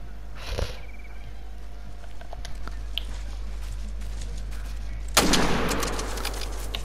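Rifle shot in theHunter: Call of the Wild during a deer hunt, one sharp loud blast with a trailing rumble late in the clip, preceded by a few faint clicks and a soft thud over steady low hum.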